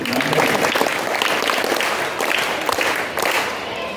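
Schoolchildren at a Yoga Day event at a school in Thiruvathra clap together in a loud, dense burst of applause lasting a few seconds, filling the room close by.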